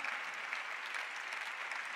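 Audience applause at a university honorary doctorate ceremony, a steady, even sheet of many hands clapping, heard at a moderate distance with no break.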